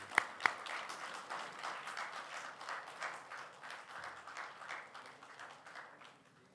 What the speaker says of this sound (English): Please give a big round of applause for Major General G.D. Bakshi.